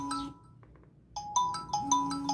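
An incoming call rings on a Z79 Max smartwatch, giving a repeating electronic ringtone of short, bright tonal pulses in a steady rhythm, fairly quiet and close, with no talking.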